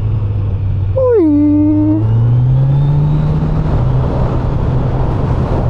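A 2025 Kawasaki Z900 SE motorcycle engine revs close by, a loud rising and falling rev over a steady idle, with the pitch then climbing slowly as it accelerates.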